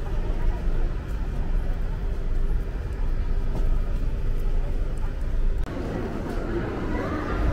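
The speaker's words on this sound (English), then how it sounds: "So right now we are at the bus station" Steady, busy background rumble at a Madrid bus station: distant engine and traffic noise with a low hum throughout, and a slight shift in tone near the end.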